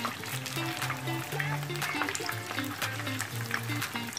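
Çiğ börek pastry frying in hot oil, a steady sizzle with small bubbling crackles running throughout, close by, with faint talking mixed in.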